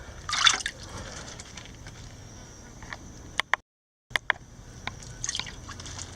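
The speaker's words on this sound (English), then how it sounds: "I'm going to start off by sprinkling water on them" Water sprinkled by hand over a worm box to keep the worms moist, heard as scattered soft drips and light splashes, with a few sharper taps near the middle and a brief silent gap.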